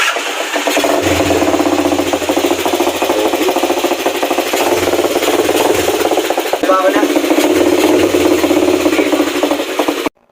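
A Honda push-button motorcycle engine starts, then settles into a steady, loud, rattly idle that runs close by for about ten seconds before cutting off abruptly.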